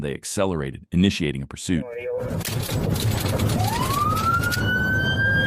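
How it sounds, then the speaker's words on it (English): A police car siren wails in over steady road noise during a pursuit, rising into a sustained high tone after someone speaks briefly over the vehicle's rumble. "activated emergency lights and sirens as soon as the light turned green"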